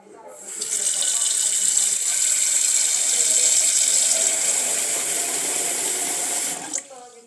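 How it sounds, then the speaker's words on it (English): Water runs steadily into a pot over cut coconut pieces, a loud, even splashing stream that starts abruptly and stops near the end. "Add water to the pot to cover the pieces."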